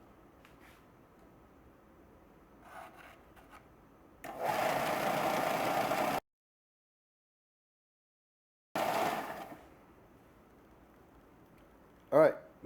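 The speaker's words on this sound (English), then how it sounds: "Now I'm going to do a little grinding on the belt sander to get it closer to the line" Belt sander grinds a pocket knife blade in two short, loud bursts of harsh abrasive rasping separated by a silent gap, close to the listener, with faint handling noises around them.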